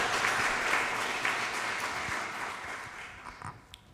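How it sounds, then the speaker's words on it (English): Audience applause at a student forum in Jena, a steady round of clapping that fades gradually over several seconds, with a few louder individual claps near the end. "So maybe another round of applause for the contribution of the students who have put a lot of work."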